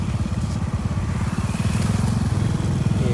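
A motorcycle engine runs close by with a fast, steady putter that chugs evenly and stays loud throughout, with no talk over it.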